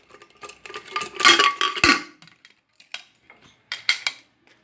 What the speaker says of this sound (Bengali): এবার আমি কুকারের ঢাকনা বন্ধ করে